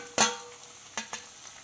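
Onions and tomatoes cook in a pan, giving a soft sizzle broken by a few sharp clinks and taps from stirring, up close.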